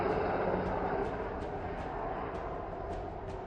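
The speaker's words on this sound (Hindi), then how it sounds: "जिसमें चेतक हेलीकॉप्टर भी शामिल है।" A Chetak military helicopter at the Bharat Shakti exercise in Pokhran gives a steady, loud engine roar, with faint regular pulses running through the whole stretch.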